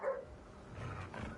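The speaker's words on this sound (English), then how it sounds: "What's he barking at?" A dog in the video game Ghostwire barks a couple of short, faint times from a distance, with a quiet ambient backdrop.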